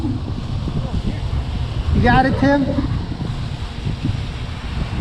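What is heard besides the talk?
strong gusty wind on microphone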